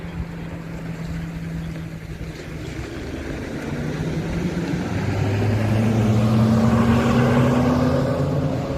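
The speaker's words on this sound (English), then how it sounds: "A lot of loud trucks around here" Heavy vehicle engines rumble by near the Allegheny River at Parker during an ice jam break and flood crest, a steady low drone that swells louder and holds toward the end with no talk.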